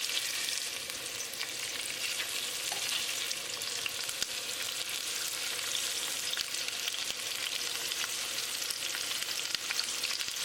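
Salmon pieces frying in oil in a fry pan, a soft, even, continuous sizzle close by with no talking.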